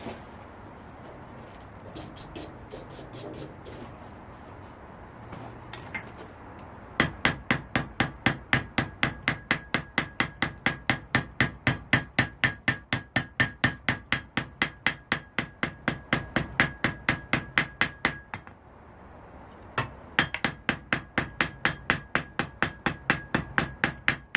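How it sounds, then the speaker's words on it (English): A textured, modified Harbor Freight hammer strikes a metal bottle opener in a fast, steady rhythm of sharp ringing blows, close and loud, pausing briefly before resuming. "I'm going to use this hammer, which is a cheap Harbor Freight hammer that I've modified to add a texture"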